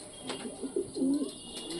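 Pigeons cooing inside a pigeon house kept for Giribaz and other fancy breeds, a few soft low coos rising and falling close by, with no voices over them.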